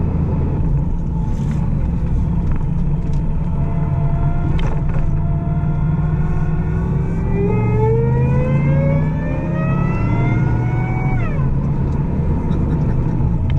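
Supercharged 2014 Ford Raptor pickup revs up through the higher RPMs, its engine pitch climbing steadily to a peak and then dropping off, with someone talking over the roar.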